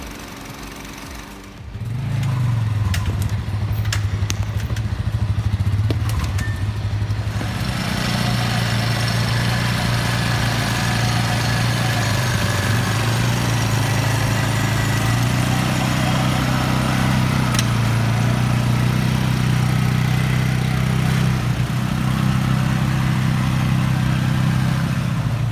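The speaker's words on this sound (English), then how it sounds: "the sound of the logging truck echoes, creating a powerful and impressive sensation" A logging truck engine runs at a steady low rumble. It starts after a short stretch of faint clicks, then holds a loud, continuous drone, with slight shifts in pitch and no voices.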